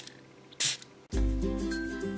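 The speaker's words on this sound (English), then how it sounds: "I am gonna try to spray it on my hand" A short hissing burst of a vanilla-scented perfume spray bottle sprayed onto a hand, followed by a loud low rumbling and hum that continues to the end.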